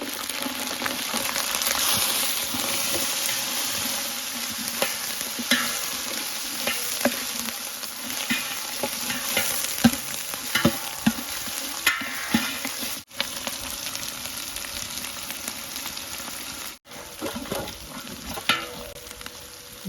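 Shallots sizzling steadily in a pan while cooking for a duck gravy, a continuous close frying hiss with occasional soft stirring scrapes and brief dips, no voices.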